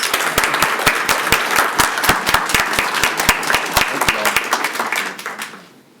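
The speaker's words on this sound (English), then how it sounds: "Please give them a round of applause." A small audience at a county commissioners meeting claps, with close, distinct individual hand claps forming a lively burst that tapers off and ends within about five seconds.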